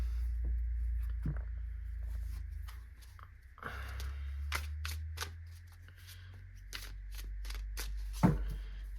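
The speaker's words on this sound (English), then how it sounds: "I'm going to give these just a quick shuffle." Cards are shuffled in several quick riffling bursts, crisp fluttering rattles with brief pauses between them, close and fairly quiet.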